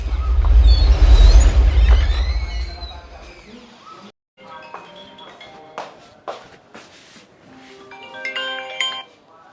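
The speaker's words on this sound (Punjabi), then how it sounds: "ਹੁਣ ਪਤਾ ਨਹੀਂ ਅੰਦਰ ਕਿਹਦਾ ਫੋਨ ਵੱਜੀ ਜਾਂਦਾ ਈ" An indoor mobile phone rings in a home with a repeating tone heard after someone speaks, with shuffling and movement around it.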